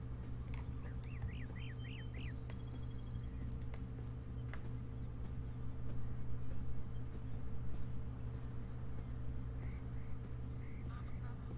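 A short run of quacks from ducks in the video game Beyond Eyes early on, faint against a steady background hum and ambient noise, then quiet ambience.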